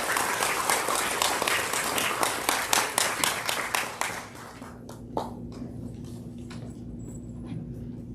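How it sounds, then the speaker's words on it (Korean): An audience at a ceasefire anniversary peace event claps in rhythmic, loud applause that gradually thins out and fades, leaving a quieter room with scattered sounds. "박수 부탁드립니다."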